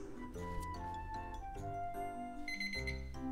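A kitchen timer goes off after ten minutes of simmering mixed rice on a home stove, a steady electronic beeping alarm that carries on through the whole moment without talk over it.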